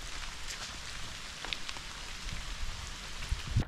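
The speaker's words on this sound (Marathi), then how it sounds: "पाऊस पण पडतोय." Rain falling outdoors gives a faint, soft patter of drops on surfaces, quiet and steady, with a few louder close taps toward the end.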